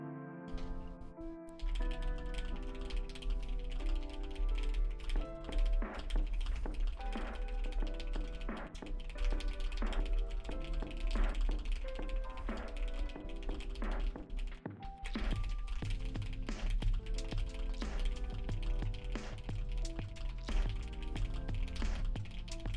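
Fast typing on a computer keyboard in a typing race, a rapid, dense clatter of keystrokes running steadily for over twenty seconds, close and fairly loud, with music-like tonal layers underneath.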